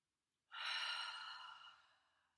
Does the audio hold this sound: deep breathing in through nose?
yes